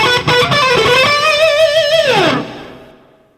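Electric guitar pull-off and picking licks played sped up at full speed: a rapid, bright, distorted run of notes with sliding pitch bends, ending in a downward swoop that fades out.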